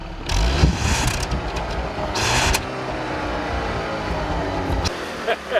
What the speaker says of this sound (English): You know, Nathan, I hear more coming from under the hood than I do from the tailpipe